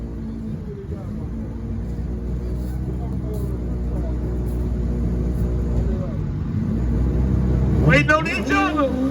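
Drag-racing motorcycles at a grudge race, a steady loud engine rumble building slowly, rising to a revving whine near the end, with a voice talking over it throughout.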